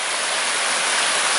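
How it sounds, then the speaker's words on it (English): An Appalachian creek swollen by rain rushes in a dense, steady hiss, close and loud with no other sounds. "The water in the creek is flowing really nice."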